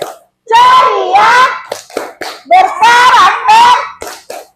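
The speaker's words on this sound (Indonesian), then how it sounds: "ayo kita tepuk semangat dulu" Second-grade schoolchildren in a classroom clap a rhythmic spirit clap while chanting loudly together, with bursts of group clapping between the shouted phrases.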